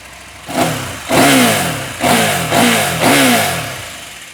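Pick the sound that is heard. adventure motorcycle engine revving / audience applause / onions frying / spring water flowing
adventure motorcycle engine revving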